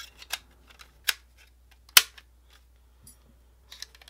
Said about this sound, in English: It'll hold up to 4 fire sticks, and they just snap in